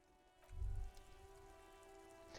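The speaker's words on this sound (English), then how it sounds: "This rain will not let up anytime soon." Rain falling in the Disco Elysium video game, heard as a soft, steady patter with a brief heavier low rumble early on, fairly quiet beneath a sustained tonal ambient drone.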